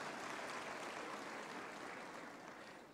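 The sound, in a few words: audience applause for graduates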